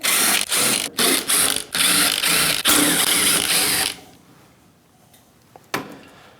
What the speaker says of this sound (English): this is just a matter of taking out all the screws